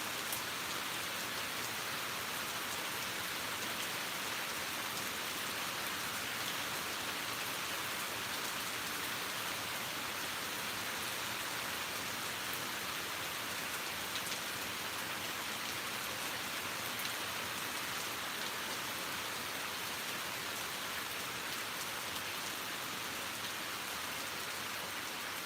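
Steady rain falls continuously, a dense even hiss of drops on surfaces with no breaks and no voices, the downpour close and constant throughout.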